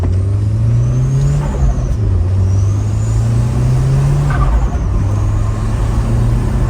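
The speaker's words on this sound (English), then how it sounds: "There's a lot of turbo noises." SR20DET-swapped car driving, engine note rising and falling through gear changes with turbo whistles and flutter over steady road rumble, loud and close with no talking.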